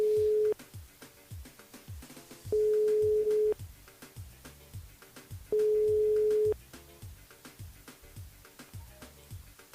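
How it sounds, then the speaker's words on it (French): Telephone line tones on a call placed through a radio station switchboard: three long steady beeps separated by pauses, each about a second, over quiet background noise. "On la rappelle sur le standard Florence du côté de Saint-Jean."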